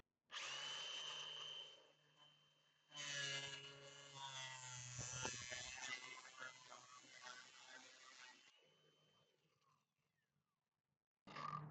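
An angle grinder cuts into a surface to make a mail slot. The whine comes in two long bursts, each winding down as the tool slows, then a brief restart right at the end.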